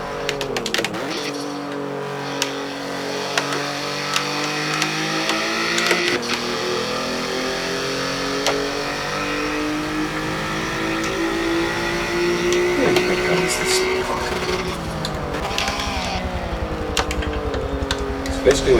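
Race car engine in a racing video game at Road Atlanta, subcompact class, revving and shifting through the gears in repeated rising and falling sweeps, with someone talking over much of it.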